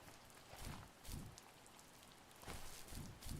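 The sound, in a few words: rain in the video game The First Tree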